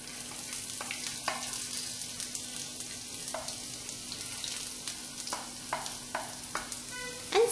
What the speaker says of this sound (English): Saute till you get the aroma of the ginger and garlic.